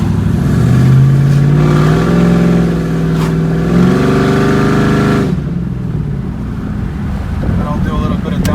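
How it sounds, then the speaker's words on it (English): A built 2009 Pontiac G8 GT with a swapped LSA supercharged engine and open exhaust cutouts, rumbling loudly and steadily as it revs and downshifts while driving in traffic, with wind buffeting the microphone; the drone drops off near the end. "And I'll do a little bit of downshifting for you guys."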